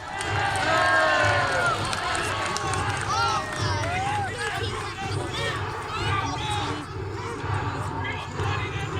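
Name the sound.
crowd cheering at Kenilworth Castle event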